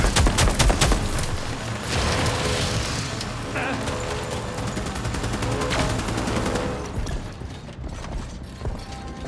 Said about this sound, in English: Even their armor won't stand a chance against PDC fire.